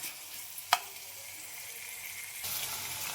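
Vegetables fry in a pan with a steady hiss and crackle, a sharp clink early on and the sizzle swelling louder near the end, close up and without talk.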